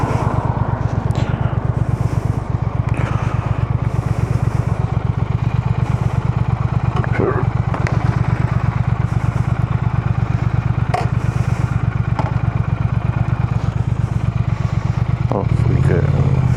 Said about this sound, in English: Quite amused at the sound of this bike.